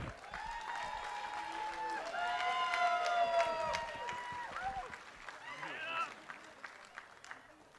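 Wedding guests applauding the father of the bride at an evening reception, soft clapping rising and fading under a busy mix of cheering, chatter and voices.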